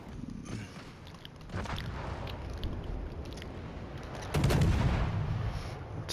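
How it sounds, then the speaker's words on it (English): Heavy naval guns of the battleship Gangut firing in World of Warships, a few deep booming blasts with a bigger, louder one near the end over a continuous rumbling battle background. "That's the Gangoot shooting me."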